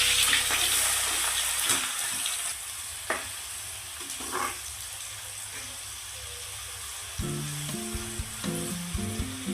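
Three medium chopped onions sizzle and fry steadily in a pan for chicken with capsicum, a continuous close crackling hiss with occasional stirring clatter and a short burst of music near the end.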